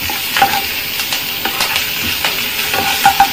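Ginger, garlic and green chilies fry in hot oil with a steady, close sizzle, while a spoon stirs and scrapes the pan in repeated light clinks throughout.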